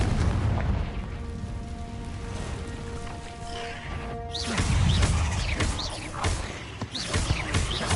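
A Confringo fire spell explodes in Hogwarts Legacy, a deep booming blast about midway that follows a quieter stretch with a sustained tone, then rumbles and crackles with scattered bursts.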